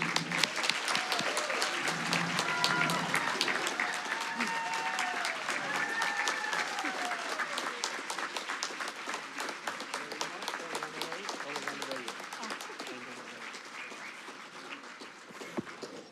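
Applause rises from the crowd at an annual corporate meeting, a long stretch of steady clapping with voices and cheers mixed in, gradually thinning toward the end.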